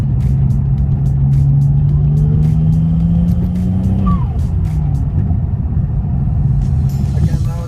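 A tuned BMW 335i making about 450 hp revs to roughly 4,000 RPM, giving a loud, continuous engine drone that rises steadily and then drops off sharply, with faint voices partly audible over it.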